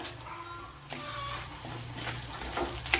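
Chilies sizzle in a hot pan for a Kerala-style okra dish, a soft, steady frying crackle at low volume.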